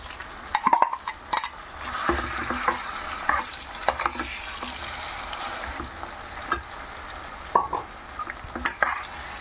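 A spoon stirs a mustard tempering frying in oil for a raw plantain curry, giving soft sizzling under irregular scrapes and clinks against the pan, with several sharper knocks spread across the stretch.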